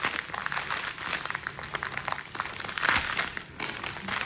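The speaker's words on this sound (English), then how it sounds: "Sorry for the crinkling." Plastic packaging around bags of diamond art drills crinkles and rustles continuously up close, a busy crackling texture lasting the whole stretch with no talk over it.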